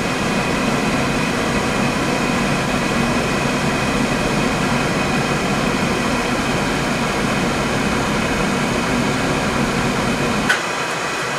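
A Weil McLain boiler with a Beckett burner runs under heavy load while calling for heat, giving a steady, even roar and hum throughout. A faint click comes near the end as the low rumble drops away.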